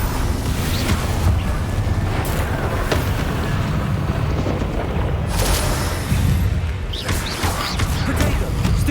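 Confringo spell blasts in Hogwarts Legacy, heavy booming explosions layered over dense rumbling combat noise, loud and continuous with bursts of crackling debris.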